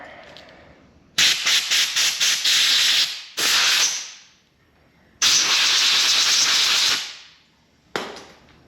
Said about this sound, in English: I'm going to take some brake clean. Just hose those down a little bit. Just a spritz of air.